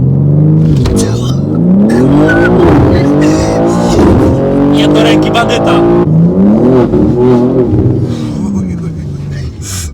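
A car accelerates and drives steadily, its engine note rising and falling through gear changes at close range, with people talking over it throughout.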